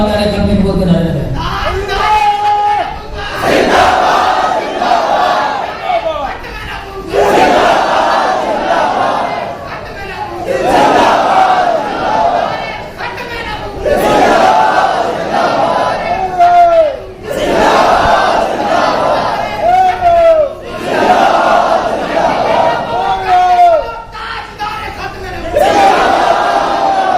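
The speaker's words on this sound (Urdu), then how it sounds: "اب اس کی پاداش میں 10 مرتبہ تاجدار ختم نبوت کے نعرے لگائے" A large gathered crowd at a religious gathering on the finality of prophethood repeatedly chants Tajdar-e-Khatm-e-Nabuwat slogans, loud rhythmic call-and-response bursts recurring every few seconds over echoing hall ambience.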